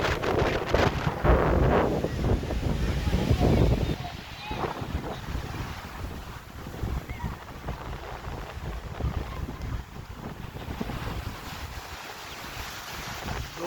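Wind and sea surf roar at the seaside Masilamaninathar temple facing the ocean near a fishing harbour, with a heavy broadband rush that is loudest for the first four seconds, then a steadier, softer gusting.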